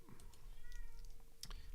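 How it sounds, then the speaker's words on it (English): A cat meows faintly from behind a door, wanting to be let in. The short, distant cries sit over a low room hum with a few light keyboard clicks. "And my cat wants in desperately."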